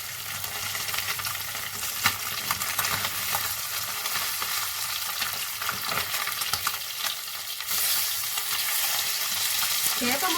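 Fish pieces fry in oil in a pan over a medium flame, giving a dense, continuous crackling sizzle close to the mic. It stays even throughout, with a slightly louder stretch near the end and no voices.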